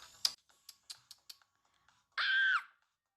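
A person yells in a sustained, fairly loud burst at an ice rink while skating, following a run of sharp clicks and knocks from skates and gear.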